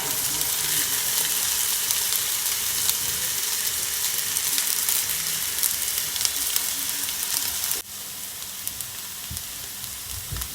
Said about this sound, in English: now I'm gonna add my rice